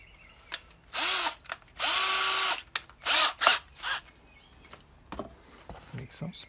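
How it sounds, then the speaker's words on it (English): A power drill whirs in a series of short bursts of varying length while a vintage Silvertone archtop guitar is restored with spool clamps in a workshop. It spins up and down close by, separated by brief pauses and small clicks. "Didn't even prepare my drill for this."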